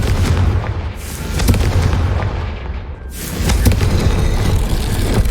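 Confringo spell blasts in Hogwarts Legacy, loud booming explosive bursts with heavy low rumble, one big blast fading out before another erupts around the three-second mark.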